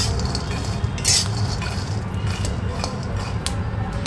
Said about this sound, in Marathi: शेंगदाणे चांगले लालसर खरपूस भाजून घेणार आहे